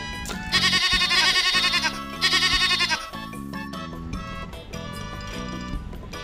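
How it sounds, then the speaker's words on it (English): A sheep bleats loudly twice in quick succession near the start, then music carries on alone. "Sheep."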